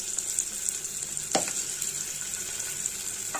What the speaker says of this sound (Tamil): இப்போ எண்ணெய் சுட்டுட்டு வெங்காயம் போட்டுடலாம்